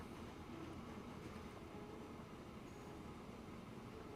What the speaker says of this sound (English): it's a train doing its thing